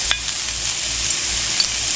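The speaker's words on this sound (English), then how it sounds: "we're going to add in our ground sausage and fry that as well" Ground sausage fries in a pan with a steady, close sizzle broken by a few small stirring clicks, with no talk.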